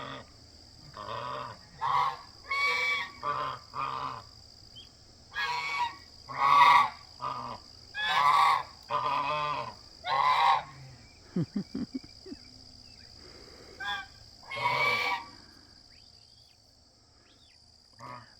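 Geese honk repeatedly in bursts, loud and close, with short pauses between calls and crickets chirping faintly in the background.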